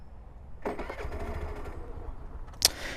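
A 2025 Suzuki Avenis 125 scooter with one-touch start fires up, and its engine settles into a soft, steady idle close by, followed by a brief sharp click.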